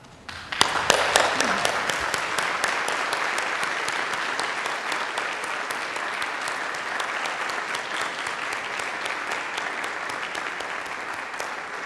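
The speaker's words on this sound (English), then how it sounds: "I'd like you to give them all a round of applause" A large crowd applauds at a nursing school commencement ceremony, clapping bursting in suddenly and holding steady and dense to the end, with some crisp individual claps close by.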